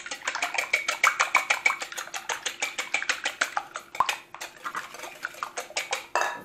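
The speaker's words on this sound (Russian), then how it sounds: "И взбиваем яйца венчиком." A wire whisk beats eggs in a bowl, making rapid, rhythmic metallic clicks and taps close up, moderately quiet, continuing for several seconds.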